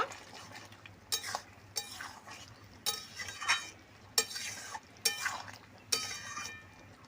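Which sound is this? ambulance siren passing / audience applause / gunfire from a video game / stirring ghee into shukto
stirring ghee into shukto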